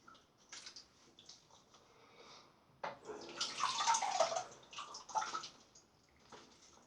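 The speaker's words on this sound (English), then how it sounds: "Let's have a little rinse off." Water splashes and trickles as a face is rinsed after a three-pass wet shave with a safety razor, with irregular splashy bursts in the middle of the clip and quieter drips before and after.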